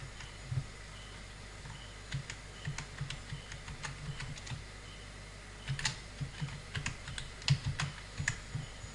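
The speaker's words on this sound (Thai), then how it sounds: "คลิกแล้วก็ปล่อยแล้วก็พิมพ์ชื่อนะครับ" Fingers tap out a name on a computer keyboard, bursts of quick, light clicks in uneven clusters, close and fairly quiet, with brief pauses between runs and no speech.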